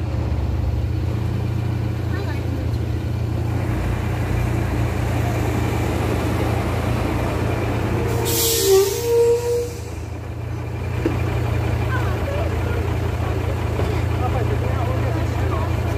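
A loaded Scania 124 truck runs with a steady low engine drone, with a brief hiss and shift in engine tone partway through as it changes gear; the sound is moderately close.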